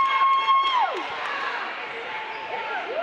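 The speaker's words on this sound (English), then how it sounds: "Kayla, senior, getting a lot of love here in the crowd." A high school basketball crowd cheers for a senior player in a gym, with loud whoops and shouting that swell at the start, then settle into a sustained roar carrying scattered voices.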